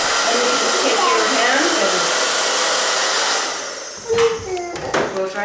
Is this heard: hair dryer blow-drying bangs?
yes